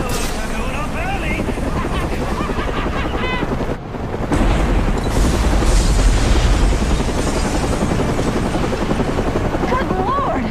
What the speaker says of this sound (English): where there has just been a massive explosion